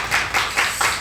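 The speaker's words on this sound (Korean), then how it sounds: "박수로 한번 축하할까요?" A church congregation claps together to celebrate a member's birthday during a Sunday worship service, a short burst of even, mid-loud applause that swells in regular waves with no talk over it.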